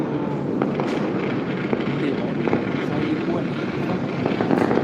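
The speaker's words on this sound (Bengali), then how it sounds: "আশেপাশে অনেক জায়গাতে বাজি পড়ছে" New Year fireworks explode over KLCC in Kuala Lumpur as a continuous rumbling crackle with scattered sharp pops from nearby and distant spots, and voices can be heard beneath it.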